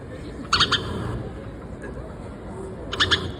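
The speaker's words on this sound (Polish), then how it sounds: "To jest wróbel, no tak." A recorded sparrow call plays in two short bursts of bright chirps, one near the start and one near the end, over a faint steady background hiss.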